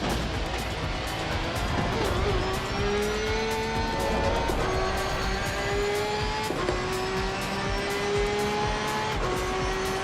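A race car in the sim racing game Assetto Corsa Competizione drives hard, its engine note climbing through gears with loud shifts, brief tire squeal and a continuous roar from start to end, with no talk.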